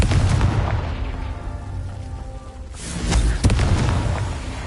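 A Confringo fire spell detonates in Hogwarts Legacy with two heavy booming blasts, one at the start and a louder one about three seconds in, rumbling over dense game ambience with no talk.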